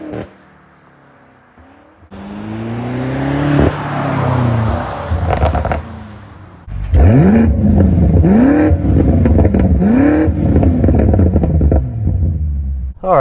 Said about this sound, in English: You also need to hear how this car sounds from the outside.